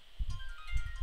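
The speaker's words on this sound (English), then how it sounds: "Oh, yay, I'm getting text. I should have muted my phone." A phone gives a short text message notification: a few quick electronic tones over soft low thumps, heard at moderate volume with no voices.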